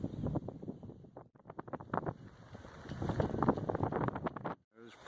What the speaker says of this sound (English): There's plenty of wind.